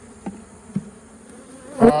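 Agitated honey bees during a summer hive assessment, a low hum with a couple of short close buzzes and a louder bee buzzing right near the end.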